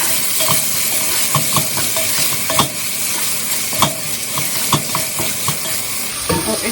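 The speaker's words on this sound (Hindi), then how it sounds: "इसमें अब डाल देंगे प्याज। प्याज का हम बाद इसको और भूनेंगे।" Chopped onions sizzle and fry in hot oil in a pan of okra sabzi, a loud continuous hiss broken by the scrape and clink of a spoon stirring through the mix.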